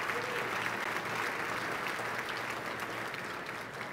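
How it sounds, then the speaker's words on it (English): A large audience claps in a sustained, dense round of applause at a Texas congressional district address, a steady wash of hands that holds evenly for the whole span with no voices standing out. "a big round of applause"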